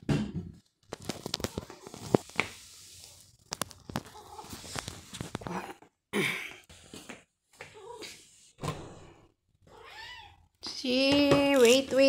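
Cats meow several times before breakfast indoors, close and fairly loud. The calls come in short bursts between pauses, with a person's voice calling to them and imitating the meows.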